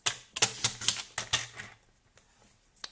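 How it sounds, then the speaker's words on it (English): Cardstock being trimmed to 5 3/4 inches on a paper trimmer during a card-making session: a quick run of sharp clicking, slicing strokes close by, then fading to near silence with one last snap. "we're going to cut this to 5 3/4"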